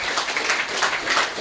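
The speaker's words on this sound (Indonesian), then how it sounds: "Tepuk tangan untuk Mas Kholik." An audience applauds a school head at a community gathering in Banyuwangi, giving brief, dense, steady clapping from many hands close by.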